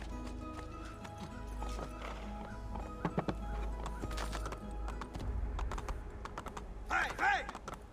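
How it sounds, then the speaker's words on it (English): Horse hooves galloping in the video game Assassin's Creed 2, a steady rapid clatter of hoofbeats with a neigh or whinny near the end, under game ambience and light talk. "Take the horse this time."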